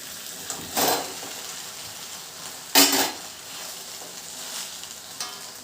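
Basmati rice is stirred in a frying pan, with a few distinct scraping strokes of a spoon against the pan over a low steady sizzle.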